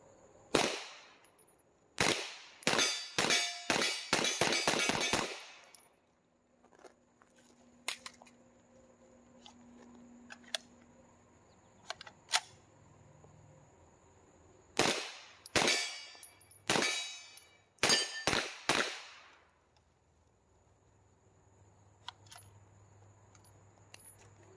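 A Glock 17 pistol fires a series of sharp, close gunshots in quick clusters, several rapid strings separated by pauses and quiet stretches, with faint metallic clinks between them and no speech.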